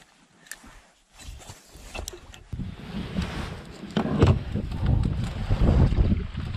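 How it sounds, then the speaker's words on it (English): Gusting wind buffets the microphone out on the water during bass fishing from a mini bass boat, a rough rumbling roar that builds steadily louder over the clip with no talking. "love all this wind that just decided to pick up"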